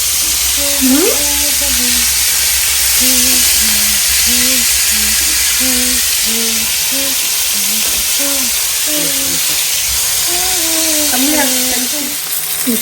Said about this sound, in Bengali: ফ্রাই করতেছি